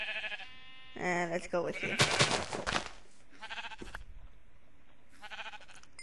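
Minecraft sheep bleat in repeated nasal baas, loud and close, broken by bursts of game noise, while a player speaks briefly over them.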